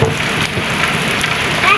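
Heavy rain pours down in a loud, close, unbroken hiss that spans the whole moment.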